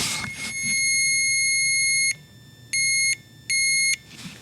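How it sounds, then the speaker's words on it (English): A multimeter's continuity tester, used for testing 7.3 Powerstroke wiring, gives a long steady beep followed by three shorter beeps, loud and close. "hold your positive and your negative together of your multimeter and turn it till it makes a beeping noise"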